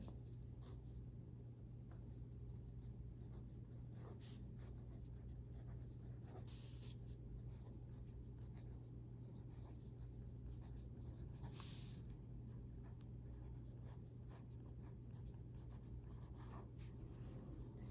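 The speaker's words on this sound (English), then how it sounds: "So I'm going to write these here." A pen or pencil writes words of a poem by hand on paper, soft scratchy strokes coming in short bursts over a low steady hum, close and faint.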